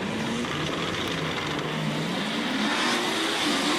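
A drag car, GMC Sonoma, pulls away down the strip in a Southeast street-racing event, its engine tone climbing steadily and loud at mid distance, with a continuous rising whine throughout and crowd or track ambience behind.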